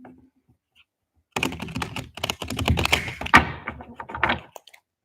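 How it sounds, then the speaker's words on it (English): Oversized tarot cards are shuffled close up in a burst of quick riffling taps and soft thuds lasting a few seconds, after a near-silent start. "These cards are so big, it's hard to shuffle."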